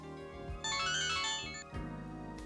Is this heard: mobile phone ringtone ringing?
yes